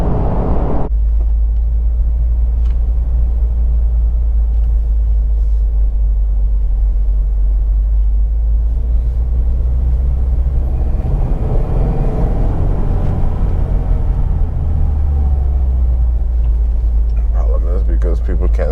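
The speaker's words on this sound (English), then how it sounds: "That turbo whistle." A Subaru WRX drives along in traffic with a steady, loud engine rumble and intake noise and a faint turbo whistle underneath, while someone talks over it throughout.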